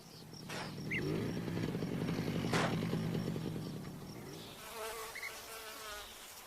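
Bees buzzing near hives in a cork forest among wildflowers, a wavering drone that swells close by as an insect passes, then fades to fainter buzzing.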